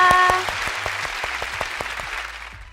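Children at a preschool Sunday worship service clap in thanks to Jesus, a scattered round of individual claps that starts after a brief voice and slowly thins out.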